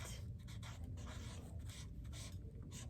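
Pen writing on paper in a notebook, a steady soft scratching with repeated short strokes, fairly close and quiet, with no voices over it.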